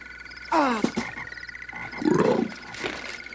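Toad croaking in a fairy-tale drama, two deep throaty croaks separated by a pause, close and fairly loud with little else around.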